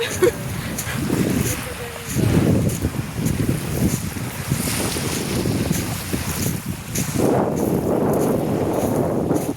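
Ocean waves wash and break on rocks nearby in a steady roar, heavy wind buffeting the microphone throughout, with no clear speech.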